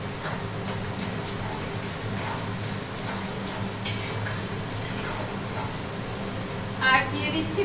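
Onions frying in a pan with sugar and turmeric, stirred steadily: a constant soft sizzle broken by scraping stirs and a couple of sharper utensil clinks against the pan, with a faint low hum in the background.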